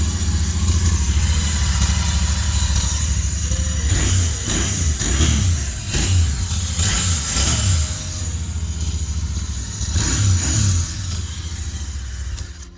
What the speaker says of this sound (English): That's the exhaust note of the motorcycle.